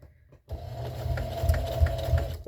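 A sewing machine hums into motion and stitches through fabric with a fast, steady mechanical chatter, close and fairly loud, for a couple of seconds after a brief quiet start.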